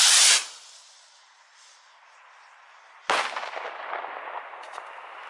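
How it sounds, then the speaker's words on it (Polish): A sharp whoosh of a firework rocket launching fades into quiet, then a loud crackling burst erupts and sizzles away, heard from a distance. "teraz tryb fajerwerki i lecimy z kolejną rakietką"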